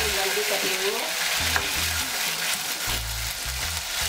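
Thin, long-cut taro (arbi) strips frying in hot oil with fennel, ajwain and asafoetida, giving a loud, close, continuous hissing sizzle with bubbling crackle throughout.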